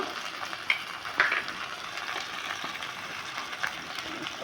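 Garlic, onion and ginger paste fry in a pan with a steady broadband sizzle throughout, broken by a few sharper crackles and spatters near the start, fairly close and moderately loud.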